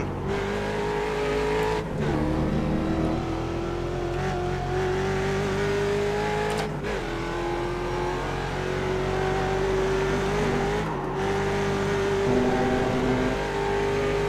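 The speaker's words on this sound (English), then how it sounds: "Blipping way too much on the downshifts again." A Ford Mustang race car in the iRacing simulator at Road Atlanta drones steadily at high revs, with sharp throttle blips on each downshift at three points, the engine note dipping and climbing again with no talk.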